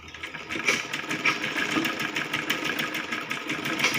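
Sewing machine running steadily while stitching a kaja strip onto a child's lehenga, a continuous close mechanical whir with a fine rapid needle rhythm throughout.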